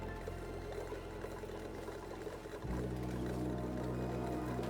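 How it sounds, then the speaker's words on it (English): Water pours in Oxygen Not Included, a low bubbling, gurgling game effect that shifts abruptly into a steadier droning flow partway through, playing alone without talk. "And then we'll put a little bit of liquid"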